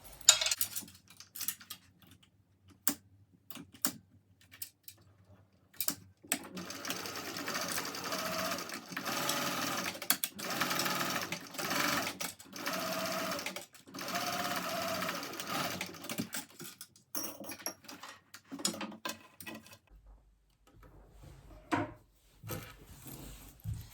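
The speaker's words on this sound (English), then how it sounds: "So now I'm just going to sew along the top with about a 1/4 of an inch seam allowance." A sewing machine stitches a zip seam on a backpack in bursts, with rapid mechanical chatter running in stretches of several seconds between pauses and small clicks and handling noises.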